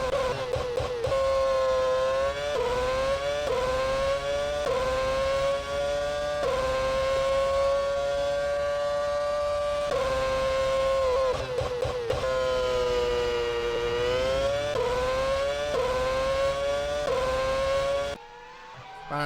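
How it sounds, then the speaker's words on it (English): A video game Formula 1 car engine screams at high revs around Albert Park, pitch rising and dipping through repeated gear shifts, loud and continuous before cutting off abruptly near the end. "Listen to that engine scream."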